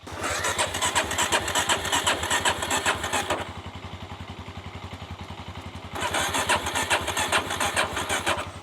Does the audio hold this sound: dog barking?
no